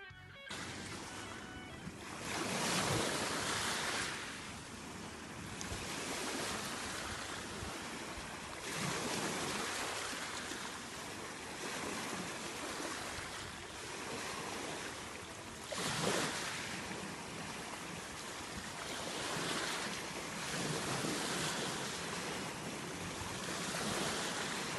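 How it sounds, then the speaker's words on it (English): Ocean surf rolls in continuously, with waves breaking and washing in repeated surges every few seconds, accompanied by steady wind noise across the microphone and no voices. "Ocean waves is the answer"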